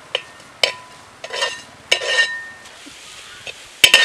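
Masala with curry leaves and coriander is stirred in a pan for homemade fish kizhi, sharp metal spoon clacks against the pan at irregular intervals over a faint sizzle, close and fairly loud.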